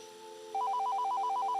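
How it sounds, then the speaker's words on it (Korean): An old telephone bell rings loudly and steadily in a rapid repeating trill, starting abruptly after a moment of faint hum, close and alone with no voices. "전화기 소리였다. 그 특유의 벨소리가 기억났다."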